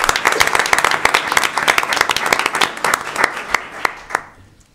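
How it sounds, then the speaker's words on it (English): Applause for honorees fills a room at a board of trustees meeting, a burst of many hands clapping that thins out into scattered claps and fades away at the end. "let's give them a big round of applause"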